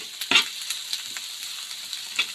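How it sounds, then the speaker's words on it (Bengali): Chopped garlic and four green chilies frying in a pan for a dried-fish mash, a soft steady sizzle with a few sharper crackles and stirring clicks, fairly quiet and close. "এগুলোকে একটু ভেজে নেব।"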